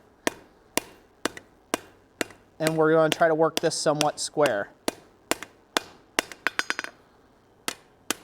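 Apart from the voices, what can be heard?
hammer blows forging a steel tube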